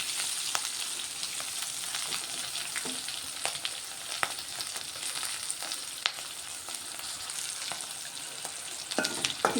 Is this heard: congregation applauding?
no